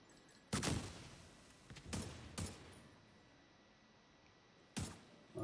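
Video game gunfire in separate sharp bursts: one loud shot, then two close together, then a pause before another, each with a short decaying tail over a quiet background.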